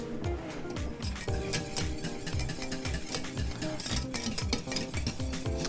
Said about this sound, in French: Je mélange et je vais refaire bouillir la préparation de façon à activer les propriétés de l'agar-agar.